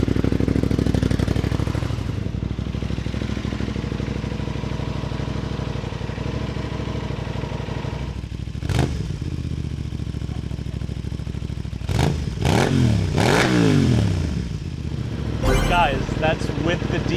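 An Aprilia Tuono 660 with an SC Project exhaust idles with a steady burble, then blips through several sharp revs near the end. Speech-like sounds are detected, but no words are transcribed.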